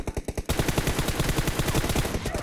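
Automatic gunfire in PUBG Mobile comes from behind. A few spaced shots lead into a dense, rapid burst that carries on for about two seconds, loud and fairly close, with no talk.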